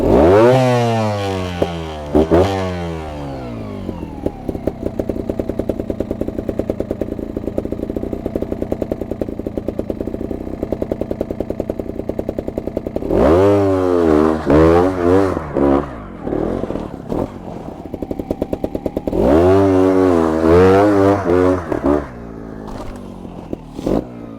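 A Beta 300 two-stroke trials motorcycle revs up sharply and then holds a steady buzzing drone in third gear, with renewed rising bursts of throttle near the end, loud and close, with no voices.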